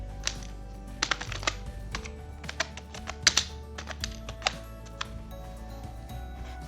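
Fingers type on a computer keyboard at a desktop setup, with irregular, close, crisp keystrokes clattering in quick bursts and short pauses over a low steady hum.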